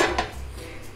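A lid set onto a pan of apples cooking with a little water for a tarte Tatin, giving a brief close metallic clatter of cookware at the start, then quiet kitchen background.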